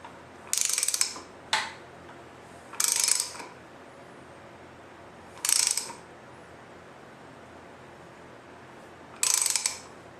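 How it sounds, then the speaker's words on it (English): Ratchet clicking in four short bursts, close and crisp, as a 27mm socket turns the crank pulley bolt clockwise on a Nissan SR20DET engine during teardown, with quiet pauses between pulls. "rotate it a whole revolution using a 27mm bolt on the crank pulley"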